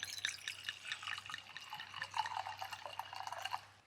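Red wine pours from a bottle into a wine glass at a camp setting, a continuous close trickle with small splashes and gurgles, no talking.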